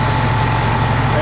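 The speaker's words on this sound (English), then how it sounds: "So I'm going to raise my throttle to 110." A fire pump engine, set up to exercise its relief valve, holds a loud, steady drone as its throttle is raised toward 110 psi, a constant close mechanical hum with strong low tonal bands.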